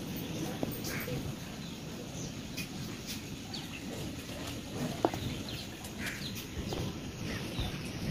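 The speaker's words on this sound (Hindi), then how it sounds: "कबूतर और कौओं का बहुत सारा झुंड है ऊपर" Faint, scattered calls of pigeons and crows and soft cooing rise now and then above a steady outdoor rumble, distant and sparse.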